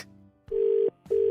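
A telephone call connects with a ringback tone: two loud, steady electronic tones, each lasting about half a second, separated by a brief gap.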